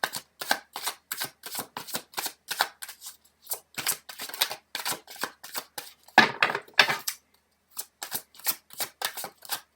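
Tarot cards are shuffled in quick riffling bursts, a steady run of crisp, close flutters with a brief pause near the end before the rhythm resumes, heard alone without talk.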